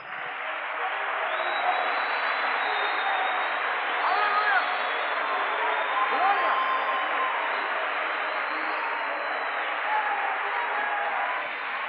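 A church congregation claps and cheers together in a steady, continuous wash of applause lasting the whole stretch, moderately loud with scattered voices mixed in.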